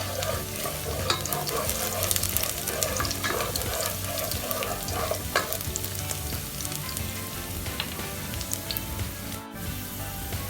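Garlic, vegetables and other chopsuey ingredients sizzle steadily in a hot pan, with clinks and scrapes of stirring throughout and no talking.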